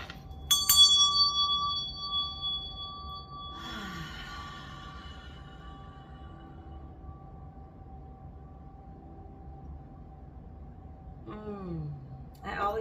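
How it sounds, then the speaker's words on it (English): A meditation bell is struck once, its bright ringing tone sustaining and slowly fading over several seconds, with soft breathing and quiet vocal sounds later in the clip. "meditation bell has a nice sound to it"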